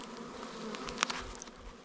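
Honeybees around a hive on an Alaskan homestead give off a steady, fairly faint buzzing, with a couple of brief louder swells as individual bees pass close.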